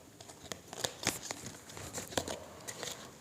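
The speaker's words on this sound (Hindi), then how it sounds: "this is my last shuffle angels" Angel oracle cards being shuffled by hand, a soft papery crinkling and riffling with short sharp bursts, close and fairly quiet, no voices.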